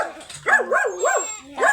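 A dog on a farm with chickens and goats barks in a few loud, close, wavering yelps, then a short pause before one more bark.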